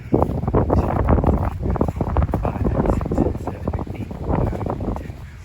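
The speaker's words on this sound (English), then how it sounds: "There comes the wind." Wind gusts across an open disc golf course, buffeting the microphone in loud irregular rumbling bursts that rise and fall throughout.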